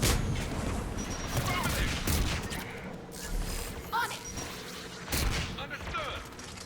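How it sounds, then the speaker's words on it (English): Anti-aircraft gunfire in Mass Effect 3 rattles in irregular bursts beneath a dense battle mix, with several sharper cracks standing out, while voices talk over it. "AA guns ahead of"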